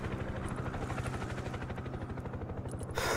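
A heavy Mi-26 transport helicopter in the military strategy game Broken Arrow beats with a loud, steady rotor chop that pulses evenly throughout, ending in a brief burst of noise at the close.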